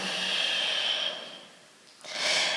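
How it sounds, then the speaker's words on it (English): Slow, deep breaths during a yoga flow: a long steady exhale fades into a quiet pause before a fuller inhale swells back in, close and breathy with no talking. "We'll take 2 more breaths."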